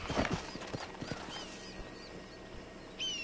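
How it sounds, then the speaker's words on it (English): Horse hooves clip-clopping in the Western video game Red Dead Redemption, a quick run of hoof thuds loudest at the start, then steady lighter steps, with a bright tone entering near the end. "Let's get our horse."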